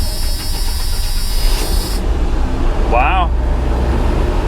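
A 1985 GMC C1500 Sierra pickup, long unstarted, runs at a steady, loud engine drone at high idle before dropping off, with a short squealing sweep near the end and a voice exclaiming briefly.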